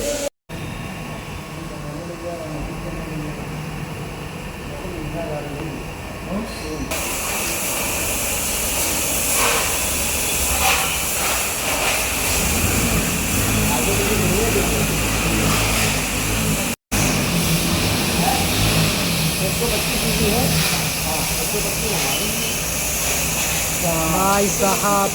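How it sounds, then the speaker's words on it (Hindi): A brand-new 2026 Hero Xtreme 125R motorcycle being washed at a Hero service centre, with a steady hiss of spraying water and workshop machinery under a loud constant wash, while people talk nearby. "भाई साहब क्या वॉश हो रहा है"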